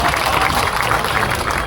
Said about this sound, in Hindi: एक बार जोरदार तालियां हो जाए आरिफ भाई के लिए